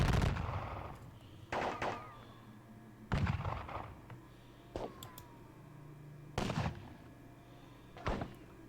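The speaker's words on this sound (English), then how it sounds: "you are to shoot at them" Musket volleys in a Napoleonic battle game, several sharp crackling bursts of gunfire spaced a second or two apart, each with a short echoing tail.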